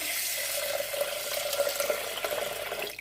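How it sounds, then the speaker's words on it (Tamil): Water is poured from a tap over raw rice and moong dal in a vessel for washing, giving a steady close splashing hiss that runs the whole time and then stops abruptly. "தண்ணி சேர்த்து நல்லா கழுவிட்டு"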